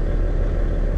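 Cold car engine idling in a deep freeze, held below 800 RPM with coolant at minus 3 Celsius, giving a steady, close, low rumble with no variation.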